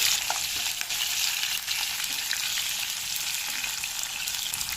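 Green chillies and halved garlic cloves frying in a pan for bitter gourd curry, giving a dense, even hiss of hot oil that runs steadily throughout with a few faint stirring clicks.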